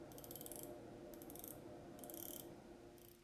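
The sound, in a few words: watch bezel rotating with loud ratchet clicks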